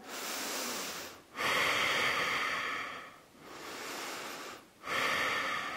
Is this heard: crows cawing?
no